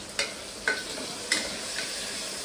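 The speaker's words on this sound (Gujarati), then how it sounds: "હવે આપણે નાખી દઈશું લીમડો." Curry leaves dropped into hot oil while making a potato curry crackle in a steady sizzle, with four sharper spatters standing out over the frying hiss, close by and with no voices.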